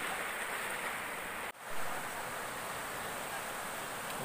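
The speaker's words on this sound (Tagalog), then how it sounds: "Medyo malakas na po yung alon." Strong ocean waves wash steadily at Cabongaoan Beach in Burgos, Pangasinan, a broad hissing surf roar with a brief dropout midway, continuous and fairly near.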